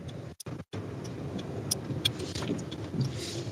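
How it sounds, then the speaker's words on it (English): A car rolls slowly into a gas station parking lot, with a steady low engine and road rumble throughout, a few brief dropouts near the start, and occasional small ticks and clicks over the hum. "I'm pulling into the parking lot of the gas station"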